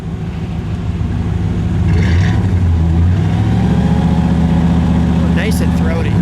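A 1956 Chevrolet Nomad station wagon with a 265 V8 idles, then revs up to a loud, sustained throaty roar close by, while people talk over the engine.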